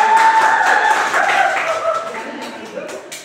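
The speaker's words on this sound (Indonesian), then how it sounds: "tepuk tangan untuk kelompok 1" Classroom students clapping for a group during a micro-teaching lesson, a brief burst of many hands close by that gradually thins and fades, with some faint voices mixed in.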